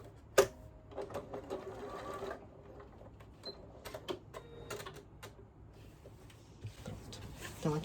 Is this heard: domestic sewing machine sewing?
yes